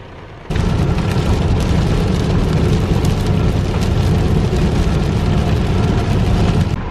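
Car driving on a long rainy road toward Memphis, Tennessee: a steady loud wash of tire spray and engine rumble that starts abruptly and holds constant, no talking.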